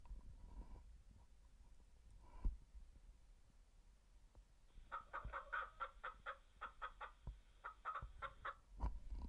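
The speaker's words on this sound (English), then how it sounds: "The chicken was clucking." A chicken clucking sound effect from ActivInspire software, a rapid run of clucks starting midway and continuing to the end, moderately loud after a few quiet clicks.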